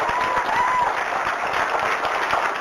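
Audience applause after a science-and-faith discussion, dense steady clapping from a crowd filling the whole stretch at an even level.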